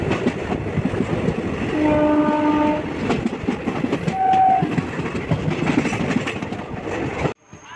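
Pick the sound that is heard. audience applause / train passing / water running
train passing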